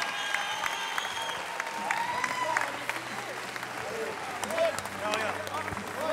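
An audience applauds an award winner at a hotel-industry trophy ceremony: sustained dense clapping from a sizable crowd, steady throughout, with a presenter's voice speaking over it.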